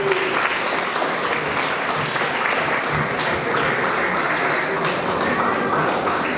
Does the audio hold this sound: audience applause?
yes